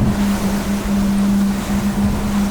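A Hydrolift X-32S boat running through waves at 28 knots, with a loud, continuous engine drone and steady hull and water rush close by, no pauses.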